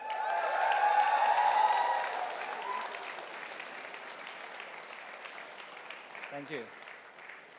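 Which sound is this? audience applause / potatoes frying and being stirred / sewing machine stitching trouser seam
audience applause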